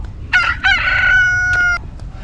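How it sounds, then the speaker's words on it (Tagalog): A rooster crowing close by outdoors near a house under construction, one loud, drawn-out cock-a-doodle-doo that breaks into a few rising notes before a long held call, over a faint low background rumble. "may mga manok oh"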